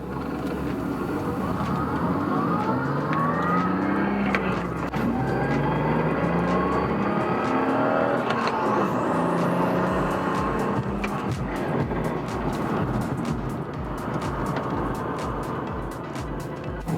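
A BMW M235i F22 with an N55 engine and an AFE cold air intake pulls hard under acceleration, its engine note climbing in repeated sweeps over steady road and cabin drone, continuous and fairly loud, with no talking.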